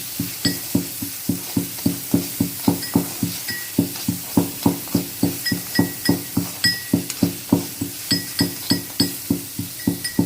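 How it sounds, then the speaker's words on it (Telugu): Black pepper pounded in a kitchen for white cream pasta, a steady run of sharp, evenly spaced thuds with a ringing metallic clink on each strike, close and loud. "మా బుడ్డది పెప్పర్ పొడి దంచుతా ఉంది చూడండి"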